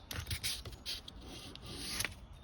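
A knife blade is worked back and forth against a stone on a KME guided sharpener, making repeated close, raspy grinding strokes in a steady rhythm with brief gaps between passes.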